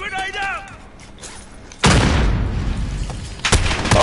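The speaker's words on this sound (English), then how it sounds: "Grenade" A grenade goes off in Call of Duty: Warzone with a sudden, loud boom that rolls into a long, noisy rumble. A second sharp blast follows moments later, after a short stretch of voice at the start.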